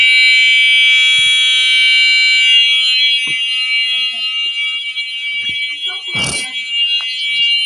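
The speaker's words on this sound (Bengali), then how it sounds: "অ্যালার্মটা কিন্তু ঘরের ভিতরে" An anti-theft alarm for a cattle shed, installed indoors, sounds a loud continuous electronic tone with stacked harmonics, then fades and breaks up, with a short burst of noise and a voice speaking near the end.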